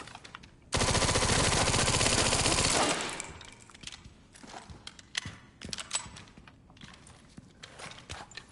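Resident Evil Requiem weapon fire: a loud, dense burst of rapid automatic shots lasting about two seconds, then a sudden drop to scattered quieter clicks, footsteps and rustling.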